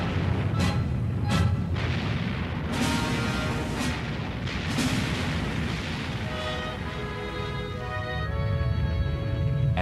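Heavy battleship guns boom in a shore bombardment, several distinct deep blasts in the first half followed by rumbling echoes and a steady low roar, with no talk.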